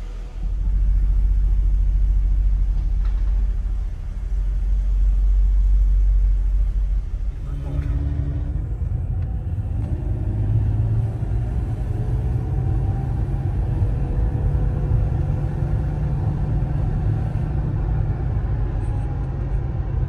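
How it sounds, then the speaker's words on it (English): A Mercedes E320 W124 with its M104 engine running while driving on a cold day, a steady low rumble that shifts after an early gear change, with someone speaking over it. "Certainly has that distinctive M104 sound to it."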